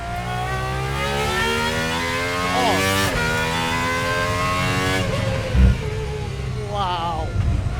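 A Gordon Murray GMA T.50s with its V12 engine accelerates hard on a track, its high-pitched wail climbing through the revs, with a brief drop at a gearshift and a second rising pull.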